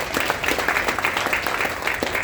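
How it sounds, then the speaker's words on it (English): Audience applause at an evening candidate forum for District 14 and Georgia House District 6, a steady bed of many hands clapping throughout, moderately loud with no voice over it. "Give yourself a clap."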